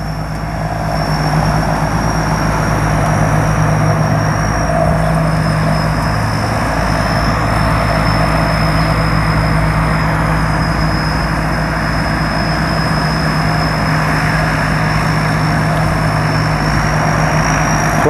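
A combine harvester reaps a rice paddy, its engine a loud, steady drone with a constant mechanical whine over a deep low rumble, unbroken for the whole stretch, with no talking.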